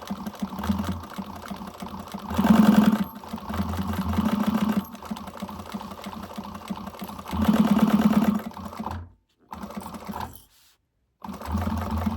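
A domestic sewing machine stitches a seam on a zippered Aurora bag in several loud bursts of rapid mechanical whirring, separated by quieter pauses and two short silent gaps.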